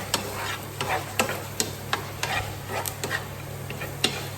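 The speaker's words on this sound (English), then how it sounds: "A little bit of oil, keeping the onions moving all the time." Onions sauté in a little oil in a pan, kept constantly moving: a soft, low sizzle runs underneath while quick scraping stir strokes land in an irregular rhythm, close by and without speech.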